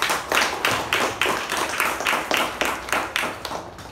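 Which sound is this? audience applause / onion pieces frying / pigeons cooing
audience applause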